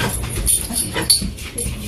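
A red-nosed pit bull whimpers and pants close by in short, uneven bursts, its whining rising and falling with no voices over it.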